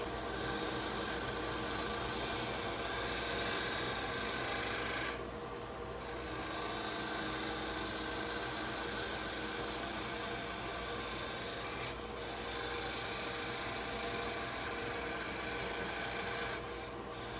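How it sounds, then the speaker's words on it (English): A skew chisel cuts a wooden spindle on a spinning lathe, a dense continuous whirring rasp with steady mechanical hum, briefly easing off a few times as the tool lifts. "use that skew chisel to give us nice, smooth, clean cuts"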